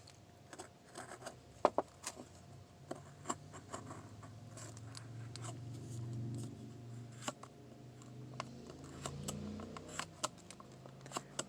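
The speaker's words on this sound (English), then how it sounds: "And what I'm doing is I'm just cutting along that line." Scissors snip along a drawn line while a paper cutout is made, giving repeated short crisp cuts with soft rustling and handling noise between them, fairly close and quiet.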